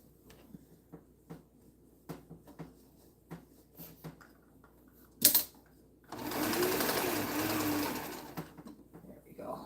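Sewing machine stitching a seam: scattered clicks and handling taps and a sharp knock, then a steady loud mechanical whir starts and runs on, close by.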